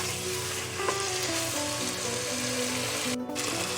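Paneer in masala sizzles steadily in a pan, cooking for dhaba-style malai paneer, with a constant close frying hiss and faint stirring, broken by one brief gap near the end.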